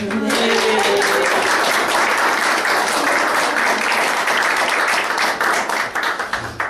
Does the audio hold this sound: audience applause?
yes